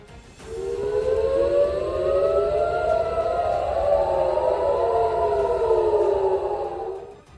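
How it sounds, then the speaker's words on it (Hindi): Air raid siren wailing over Tel Aviv at night, a loud rising and falling civil defense tone that overlaps in several sweeping pitches, sustained for several seconds before cutting off. "रात के अंधेरे में हवाई हमले का सायरन बजते ही वहां अफरा तफरी मच गई।"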